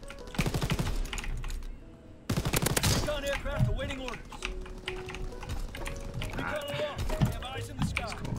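An MG-42 machine gun fires in a World War 2 video game, rapid bursts of sharp gunfire crackling in quick succession, mixed with battlefield noise and a voice talking over the shots.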